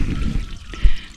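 Surface water redirected across a flooded farm in central Portugal flows and trickles briefly, a low, close gurgle with a small splash near the end.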